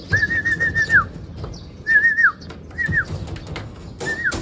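Racing pigeons arriving back at the loft after a release from Padre Burgos, Quezon: several clear, close whistling calls rise and fall in short phrases over a low rumbling background, with no voices.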